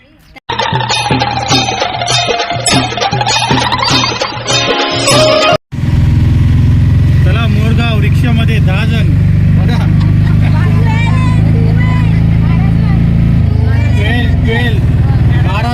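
An auto rickshaw on the Jejuri to Morgaon route sits with its engine running in a low, steady drone after a few seconds of loud music, while people chatter around it.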